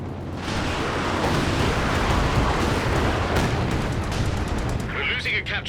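Werfer rocket artillery barrage pounding a Company of Heroes 2 battlefield, a dense, continuous roar of overlapping explosions and rumbling impacts, loud and sustained, with a brief high hiss near the end.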